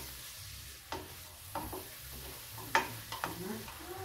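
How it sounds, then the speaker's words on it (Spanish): Onion frying in hot oil in a pan, a soft steady sizzle broken by a few sharp stirring clicks and scrapes, heard close and fairly quiet. "Una vez caliente el aceite, ponemos primero la cebolla."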